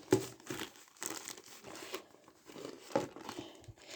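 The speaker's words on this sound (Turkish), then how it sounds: "Yani paketi keseceğim." A paper package is cut open, with soft crinkling, rustling and tearing in short separate bursts, faint and close.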